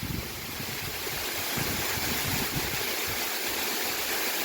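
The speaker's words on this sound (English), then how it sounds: "This waterfall is an example of a tiered waterfall." A tiered waterfall at Bethel Spring Falls tumbles down a series of rock steps, making a steady, full rushing wash of water that stays constant throughout with no voices.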